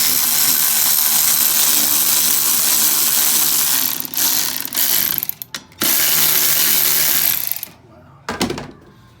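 A ratchet tightens a bolt on a Briggs & Stratton 18HP Vanguard engine, giving a dense, loud run of rapid clicking that breaks off in short pauses near the end.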